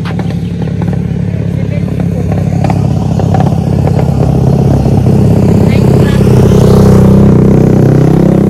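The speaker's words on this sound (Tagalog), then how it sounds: "Ayan, may motor." Motorcycle engine growing steadily louder as it approaches and passes close by in Thailand, with a rising rumble and clatter, under nearby talk.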